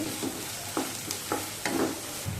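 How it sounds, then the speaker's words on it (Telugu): Onions and ginger garlic paste fry in oil for a homemade veg cabbage manchurian. A soft sizzle runs under regular scraping strokes that come about every half second. "ఉల్లిపాయలు కొంచెం ఫ్రై అయిన తర్వాత అల్లం వెల్లుల్లి పేస్ట్ వేసుకొని ఫ్రై చేసుకోవాలి"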